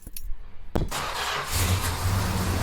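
A Chrysler Cordoba's engine cranks with a brief starter whir, then catches and settles into a steady low idle that stays loud and close, with no talking.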